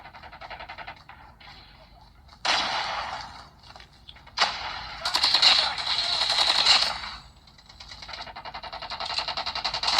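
Gunfire bursts from the mobile game Call of Duty Mobile played on a Xiaomi 12T phone, coming in several sharp rapid-fire volleys of varying length with quieter gaps between them.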